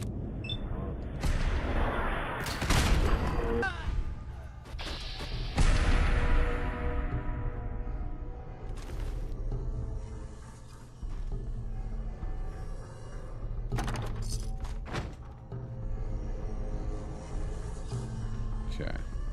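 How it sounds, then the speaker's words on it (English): Loud blasts and explosive booms from rocket launcher fire in Fallout 4, with several heavy bursts and rumbling decay spread through a busy, cluttered game mix. "Who's shooting a rocket launcher in here?"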